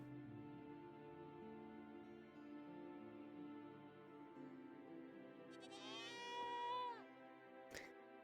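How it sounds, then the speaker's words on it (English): A goat in the Minecraft video game gives a single warbling bleat near the end, heard over a steady bed of in-game background sounds. "We hear you, goat."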